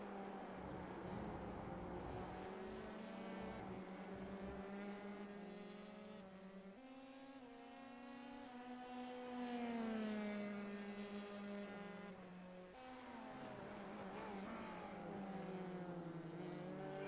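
Race cars in an SCCA pro race run a lap through the S-curves, their engines droning and whining in rising and falling pitch as they shift and accelerate, heard faint and at a distance.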